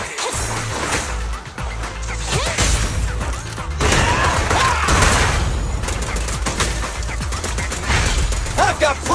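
Gunfire from the video game Zenless Zone Zero comes as loud, dense bursts of rapid shots and impacts over a constant mix of game effects and music. Character voices speak throughout.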